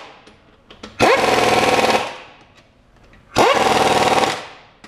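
A pneumatic impact wrench tightens the lug nuts on a vehicle wheel in two loud, close bursts of rapid hammering rattle, each about a second long, separated by a short pause.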